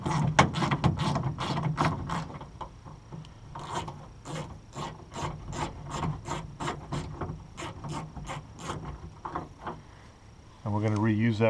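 A hand ratchet turns out a 10 mm bolt securing a mud flap on a 2020 Ford F150, giving a quick series of close, crisp clicks in an even rhythm, with a brief louder clatter at the end.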